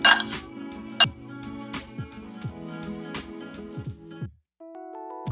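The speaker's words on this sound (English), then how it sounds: "And we'll give them a good stir." Water chestnuts in rose syrup stirred for a Thai Tub Tim Grob dessert, a spoon ringing and clinking repeatedly against a glass or ceramic bowl in a quick, uneven rhythm, close and clear, with no talk.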